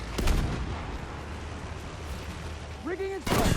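Enemy gunfire in the Battlefield V multiplayer game's Sabotage mode: loud blasts open and close the stretch, with a softer battle rumble and a brief rising tonal whine between them.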